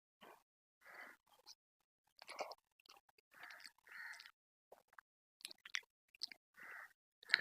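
Quiet, close eating of hot dal rice (paruppu sadam): short bursts of soft chewing and smacking come in irregular clumps with silent pauses between them and no talking.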